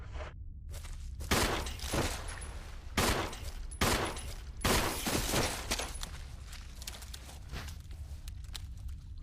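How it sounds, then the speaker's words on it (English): Pistol shots fired in the Resident Evil remake video game, a series of sharp, loud bangs spaced roughly a second apart, with scraping and footstep-like game noise between them and no talk. "I'm gonna just take him out with a pistol."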